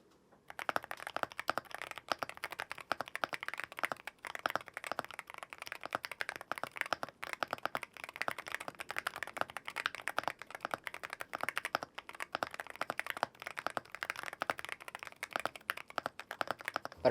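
Someone types rapidly on a Seedo C75 mechanical keyboard, giving a fast, continuous stream of close, light keystrokes with short breaks, heard on their own with no voices.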